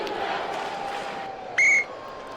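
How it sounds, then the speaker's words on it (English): A referee's whistle at a 1976 NBA Eastern Conference Finals basketball game, Houston at Philadelphia, sounds one sharp, short blast above a steady murmuring crowd. "Whistle and the foul on McGinnis, giving him 2 fouls and 3 for the 76ers."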